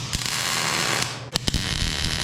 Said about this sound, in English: I think I can go ahead and tighten my clamp down and put some tacks on this piece